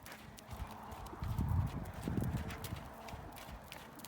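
Horse hooves thud in a soft, rolling rhythm on arena footing at a canter, moderately close and fairly quiet, with steady low background noise.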